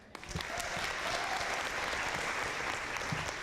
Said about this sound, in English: by a round of applause, how many here have heard of Jeff Foxworthy's "You Might Be a Redneck If"?